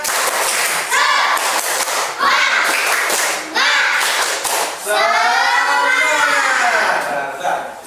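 A school class does a rhythmic 'tepuk semangat' clapping chant, with loud patterned claps over the children's chanting voices in a lively classroom.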